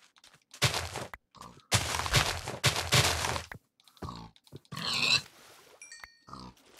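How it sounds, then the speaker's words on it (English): Pig grunts and oinks in the Minecraft video game, several short bursts separated by silences, with a few sharp clicks and game noises between them, close and clear with no talk. "And kill the pigs."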